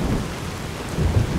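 Rain and thunder in Fallout New Vegas: a continuous rain hiss with a low thunder rumble swelling underneath toward the end, no voices present.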